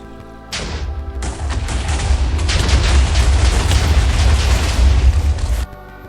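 Explosion in the Minecraft video game: a sudden loud blast swells into several seconds of dense rumbling, crackling bursts before cutting off abruptly.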